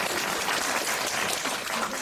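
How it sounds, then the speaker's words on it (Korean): Audience applause in a lecture hall at a church formation school, a steady, moderately faint patter of clapping lasting the whole moment with no talk over it. "두 분에게 박수."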